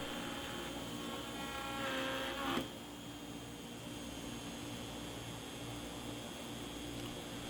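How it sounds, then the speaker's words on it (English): A CNC machine milling very hard rosewood at normal feeds and speeds gives a steady, loud broadband whine that swells and spikes briefly near the middle, then settles into an even drone. "This is the first run at my normal feeds and speeds on my CNC"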